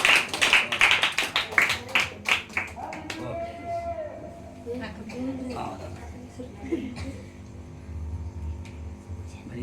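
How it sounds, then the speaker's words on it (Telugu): A crowd at a church New Year 2025 celebration claps hands in a quick burst of rapid applause that fades after a few seconds, followed by a voice speaking over a quieter background. "అందరూ చప్పట్లు కొట్టండి అమ్మా"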